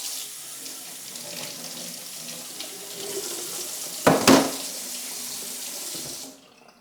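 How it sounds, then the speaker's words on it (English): Water from a tap runs steadily as the pot of a Feekaa multi-functional electric cooker is washed out in a sink, with a louder splashing burst partway through before the flow stops abruptly. "you wash out the actual pot itself"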